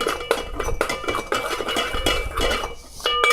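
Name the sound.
spatula scraping rice cooker pot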